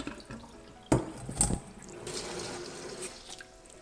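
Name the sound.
rinsing rice in water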